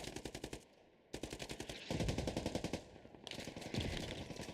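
Automatic gunfire in the shooter game Rivals during a competitive squad esports match: several loud, rapid bursts with short gaps between them, close and sharp, with no voices.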